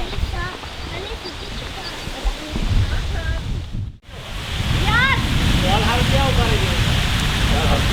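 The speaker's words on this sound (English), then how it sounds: "We're out the lower section of Cedar Creek Falls, entering into the rock pools." A waterfall and rock pools at Cedar Creek Falls give a steady, close wash of rushing water. Scattered chirping birdsong and muffled voices sit above it, with a brief dropout midway.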